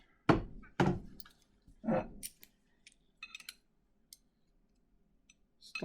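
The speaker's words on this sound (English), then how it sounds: "There's the piston catch, sprung in place" An EM-2 rifle piston catch being worked by hand: a few sharp metallic thunks and clacks followed by lighter clicks and ticks, close and crisp with silence between them.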